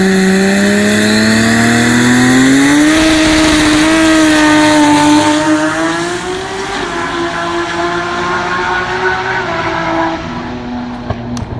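A drag racing car launches down Sydney Dragway, a loud rising engine roar that climbs steadily in pitch, then eases and fades as it pulls away.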